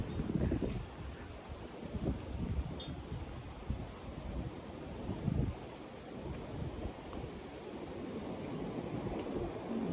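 Strong wind gusts at a beach resort in Calatagan, Batangas, a loud rumbling roar against the microphone mixed with rustling and a faint wash of surf, rising and falling with no talking.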